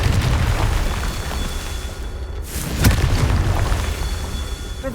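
A Confringo blasting spell goes off in Hogwarts Legacy, a single heavy boom with a sharp burst rising out of a steady rumbling game soundscape around the middle, then settling back into the low roar.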